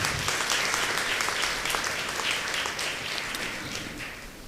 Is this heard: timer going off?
no